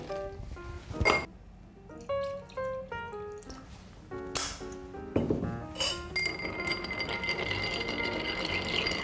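Ice cubes clink and knock sharply against a glass while a bourbon cocktail is built, a series of bright chiming hits followed by tumbling, rattling ice settling in the glass, close and clear, no talking.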